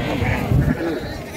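A lamb bleats amid the bustle of a sheep market in Beylaqan, a short wavering cry close by with people talking over and around it.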